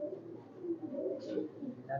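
High-flyer pigeons coo softly in a loft, their low throaty murmurs overlapping in a steady, quiet stream with a faint higher chirp near the end.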